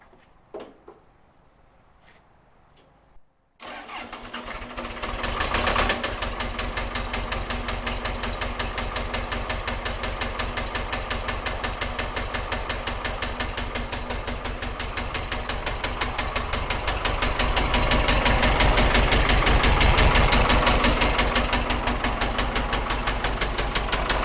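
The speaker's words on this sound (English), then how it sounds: "I'll give you guys a little startup for this thing." A Case 1840 skid loader with an engine fault cranks and starts after a few quiet seconds, then settles into a loud, steady idle with a persistent rapid knocking running throughout, growing slightly louder toward the end.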